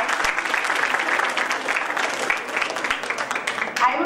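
Steady applause from a conference audience, a dense continuous clatter of clapping that holds evenly for several seconds.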